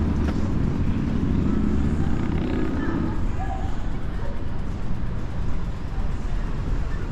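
Loud, rumbling engine noise of a Harley Davidson motorcycle coming up from behind a cyclist on a city street, strongest in the first few seconds and then easing off as it carries on past.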